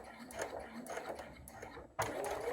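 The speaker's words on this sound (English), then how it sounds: "you want to make sure you're sewing in a straight line" Sewing machine stitching a fabric pouch in a straight line, a steady whirring motor hum with a few brief pauses and a louder restart near the end, close and moderately quiet.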